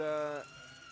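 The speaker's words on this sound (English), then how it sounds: "There's a little siren to my right. You probably hear it pretty well." A fan's siren noisemaker at an ice hockey game wails briefly with a high, tonal falling pitch, then cuts off into the crowd's background murmur.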